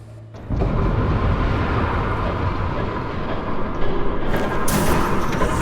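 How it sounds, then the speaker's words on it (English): A train rushes past in Batman: The Telltale Series, a loud, sustained rumbling roar with rattling carriages that sets in abruptly and holds steady for several seconds, close by, with no speech over it. "There's a train coming."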